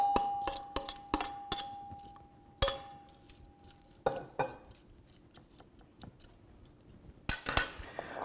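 Watermelon feta salad being plated, with repeated sharp clinks and scrapes of utensils against a serving dish and bowl, close and fairly quiet, in irregular bursts with short pauses and no talking.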